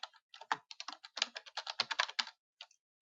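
Typing on a computer keyboard, a quick irregular run of close, crisp key taps that stops, then a final couple of keystrokes.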